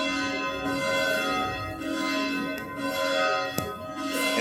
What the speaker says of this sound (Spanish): Se puso el campanario que ahora vemos sonar.